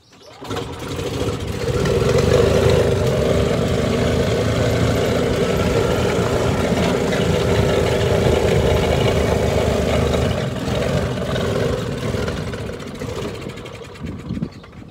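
The gas engine of a Yamaha G2/G9 golf cart, fitted into an electric cart, starts and runs with a steady loud buzzing drone and a slightly rough clutch, then fades toward the end.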